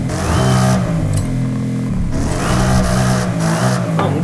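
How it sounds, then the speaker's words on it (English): A supercharged car engine in Forza Horizon 5 revs hard and loud, rising and falling twice with a brief dip between, strong low engine tones under a high whine. "Oh, you just hear that supercharger."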